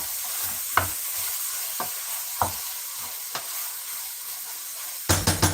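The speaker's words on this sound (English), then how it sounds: "I'm going to turn everything together." Fried rice with hot dog sizzles steadily in a hot pan while a utensil stirs it, scraping in a few sharp strokes spaced about a second apart, then a quick cluster of scrapes at the end, loud and close.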